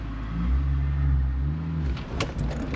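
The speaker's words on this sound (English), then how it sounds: "give gas and let go of the clutch" A Honda S2000 manual sports car idles with a steady low engine drone, then the note shifts and roughens as the driver gives gas, releases the clutch and pulls away from a stop, heard from inside the cabin.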